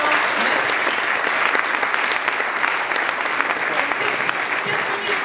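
Dense, sustained audience applause at a presentation on Breton bio-based construction sectors, loud and even throughout with no talk over it.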